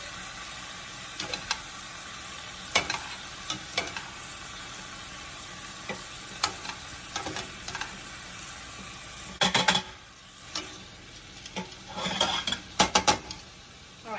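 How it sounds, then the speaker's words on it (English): Vegetables for a beef and broccoli bowl scraped and moved into a hot skillet, giving a steady low sizzle with scattered clinks and scrapes of utensil against pan, busier toward the end. "I'm going to go ahead and put her portion of veggies over here in this skillet."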